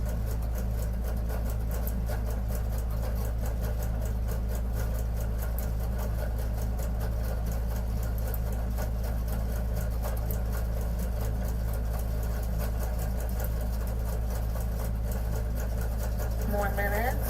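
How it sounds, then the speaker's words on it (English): A large embroidery or sewing machine runs continuously in a room, giving a steady, even mechanical hum with a fast rattling texture, while a voice talks faintly underneath. "You may hear the big machine running."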